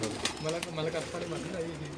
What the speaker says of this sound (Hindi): ये हमारा पुराना कमांडो कबूतर है, पुरानी ओल्ड ब्रीड में से है।